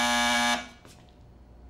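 A cartoon buzzer rings once, a loud steady electronic buzz lasting about half a second before cutting off, followed by faint room tone and a soft rustle.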